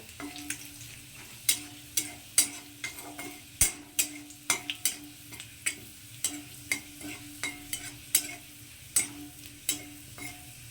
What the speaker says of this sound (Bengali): রসুনটাকে এখন আমি খুব ভালো করে একটু ভেজে নেব লাল লাল করে